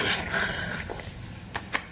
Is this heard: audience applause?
no